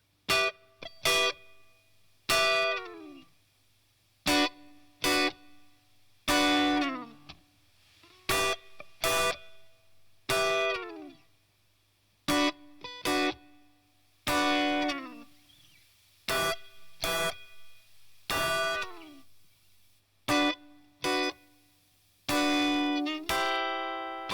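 Distorted, buzzy instrument notes from a Neve 1084 preamp EQ plugin, played in short separate bursts with silent gaps, each note gritty and slightly fuzzy, fairly loud and close.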